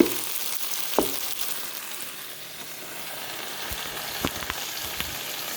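Beef and bitter melon sizzle in a pan for a black bean sauce dish, a steady hiss of frying with a few light clicks of stirring, close and continuous with no voices.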